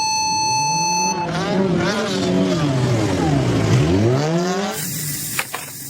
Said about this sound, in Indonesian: Wow, ada motor balap warna kuning.